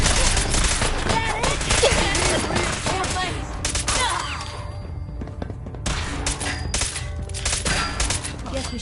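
Gunfire bursts in Fallout 4, a dense, ragged fusillade of shots and thuds that keeps up throughout, with game noise and occasional voices mixed in underneath.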